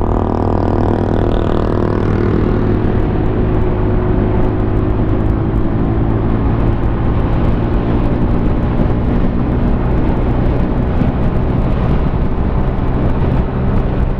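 An FKM LTS 125 motorcycle runs flat out at top speed, its engine a loud steady drone mixed with rushing wind on the microphone, continuous and close with no talking.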